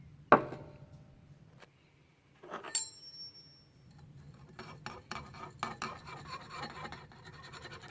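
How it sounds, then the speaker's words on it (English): Scraping residue out of a bowl with a utensil, a sharp clink at the start followed by scattered scrapes and clinks, then a busier stretch of rasping and rubbing near the end, close and fairly quiet. "We're going to scrape some of those out of there."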